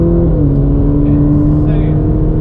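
A Ferrari Roma accelerating, heard from inside the cabin as a loud, steady low engine drone with rising tonal whine, while a voice talks faintly underneath.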